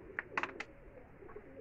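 Ghazi pigeons from Sialkot coo softly on a rooftop loft, a few short faint calls near the start followed by quieter murmuring.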